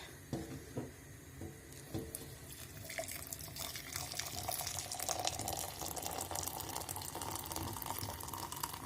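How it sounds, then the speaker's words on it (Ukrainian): Hot water from a freshly boiled kettle pours into a small glass jar holding a spoonful of egg dye, a steady splashing stream that builds over several seconds after a few soft clinks. "і заливаю у баночку гарячу воду."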